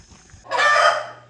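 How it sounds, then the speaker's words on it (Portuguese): On a small Brazilian farm a rooster gives one loud, close crow after a moment of soft background clucking from the hens. "Ali de baixo o galo tá fazendo pra ninguém chegar"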